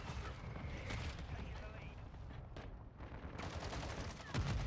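Mortar strikes and rattling gunfire in the Modern Warfare 2 video game, a dense run of sharp blasts and crackling shots over mechanical clatter, with bursts throughout and a louder hit near the end.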